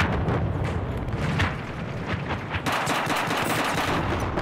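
Rapid, continuous machine gun fire from the video game Battlefield 4, dense bursts of loud gunshots with booming explosions mixed in, heard throughout with no talk.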